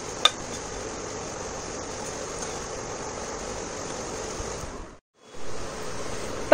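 Dal fritters deep frying in hot oil give a steady, loud, dense sizzle that carries on throughout, with a brief drop to near silence before the crackle resumes.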